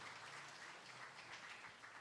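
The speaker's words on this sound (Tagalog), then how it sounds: "Isa pa hong malakas na palakpak sa atin ng Panginoon" Applause from a church congregation, a faint, steady wash of many hands clapping with no voices on top, fairly distant and low in level throughout.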